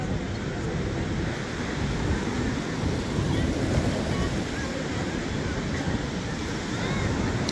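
Surf washes continuously onto a seashore in a steady broadband roar, with wind buffeting the microphone and no clear breaks between waves.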